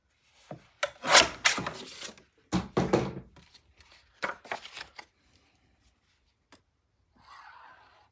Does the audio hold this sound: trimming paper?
yes